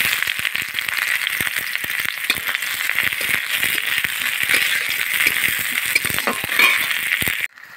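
Chopped onion dropped into hot oil in a pan, a dense crackling sizzle with rapid rattling pops, loud and close, cutting off abruptly at the end.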